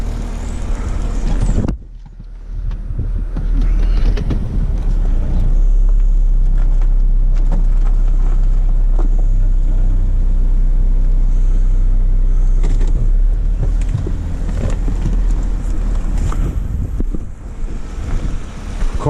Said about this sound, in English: I'm gonna move this car out on level ground.